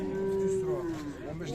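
A heifer at a suburban livestock bazaar lets out a single long, close, loud moo that slides down in pitch, with faint market chatter behind it.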